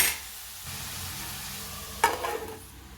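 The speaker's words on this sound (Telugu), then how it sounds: "మూత పెట్టి లో ఫ్లేమ్లో వేగనివ్వాలండి ఒక ఐదు నిమిషాల పాటు" Raw mango curry with salt frying on a low flame in a pan, giving a steady, soft sizzling hiss, with a brief clatter of a utensil near the end.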